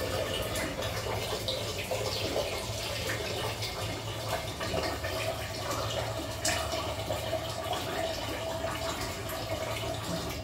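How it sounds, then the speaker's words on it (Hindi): Water runs into a cooking pot for basmati rice in a home kitchen, a steady close splashing and gurgling flow with faint background hum and no talking. "ये मैंने पानी भरा है"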